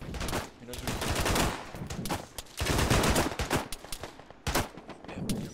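Rapid bursts of automatic suppressive gunfire in the ArmA 3 military shooter crackle close and loud, volleys of machine-gun fire overlapping in uneven waves with brief pauses, with faint voices underneath.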